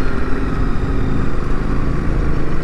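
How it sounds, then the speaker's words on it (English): Ducati Desert X motorcycle exhaust gives a loud, steady, close rumble, a dense, gritty drone that holds without pause and with no voices over it. "big bang, snarly exhaust, lots of noise and power"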